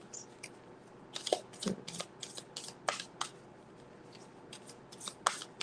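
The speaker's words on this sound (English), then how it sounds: "Sorry, I shuffle a little bit longer for this one because it's more cards." A deck of tarot cards is shuffled by hand, a long run of crisp, quick riffling bursts and soft slaps, close and fairly quiet.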